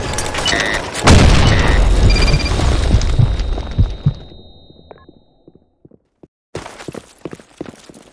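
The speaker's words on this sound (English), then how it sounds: "Grenade! Fire in the hole!" A grenade goes off in the shooter game Blackshot with a loud, booming blast and rumbling tail that fades over several seconds, followed by a brief silence and then more game noise.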